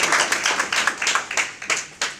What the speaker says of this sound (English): Can we just have a quick round of applause, please?